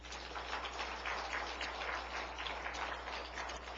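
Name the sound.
congregation applauding in church service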